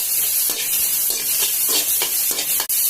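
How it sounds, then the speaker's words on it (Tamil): Finely chopped onion frying in a pan with no oil, a steady close hiss broken by repeated scraping stirs, with no voices. "இப்ப ஒரு பொடியா நறுக்கி வச்ச வெங்காயம் சேர்த்துக்கலாம். இதையும் நல்லா ஃப்ரை பண்ணிக்கலாம்."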